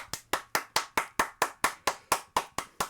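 A single person's steady hand claps, about twelve sharp, evenly spaced strikes in quick succession, close and clear with no talk over them.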